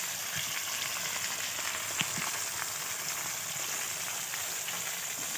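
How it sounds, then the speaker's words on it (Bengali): Rohu fish pieces frying in hot oil in a Bengali home kitchen, a steady, dense sizzle and crackle that holds evenly close by, with a few sharper pops and no talking. "দেখেছো মাছটা ভাজছি কীরকম"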